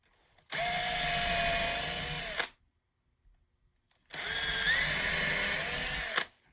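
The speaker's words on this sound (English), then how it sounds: "I'm going to drill through" A power drill whines loudly while drilling through wood for a step stool, in two sustained bursts of about two seconds each, separated by a short silence.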